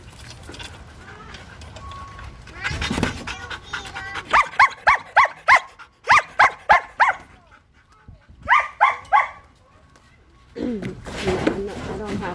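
A dog barks in several quick bursts of three to five yaps, fairly close and loud, with muffled household noise and a brief whimpering sound between the volleys.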